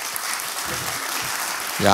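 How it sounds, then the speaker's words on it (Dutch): Audience clapping at a Dutch political party congress, a broad steady wash of applause throughout, with someone speaking briefly over it near the end. "ik ben sympathiek dat u klapt"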